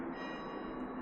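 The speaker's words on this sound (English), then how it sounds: "That's the 6 o'clock bells." Church bells in Céret, near the Devil's Bridge, ring out the six o'clock hour with a sustained, resonant peal that hangs steadily through the moment. No voices are heard.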